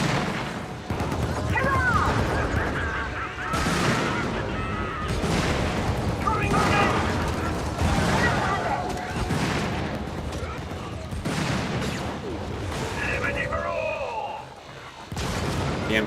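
Machine gun emplacement firing in a tank combat video game, repeated bursts of heavy gunfire and booming impacts spread across the clip, loud and dense, with a voice talking over the shooting.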